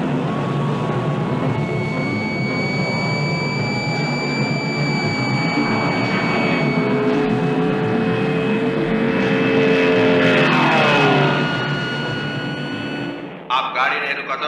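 A car engine roars steadily during a deadly race, with sustained engine drone and rising whine, a surge of revving near the end before it cuts off abruptly; background noise continues beneath.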